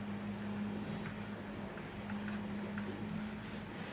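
A paintbrush stroking paint onto a thrift store furniture piece, making a continuous soft scratchy rubbing close by, with faint rhythmic swishes over a low steady hum.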